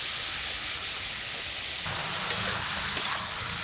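Onion and green chilli paste frying over vegetables in a wok for a spicy puti fish curry with aubergine and radish, a steady soft sizzle that grows denser midway, with a couple of faint stirring clicks.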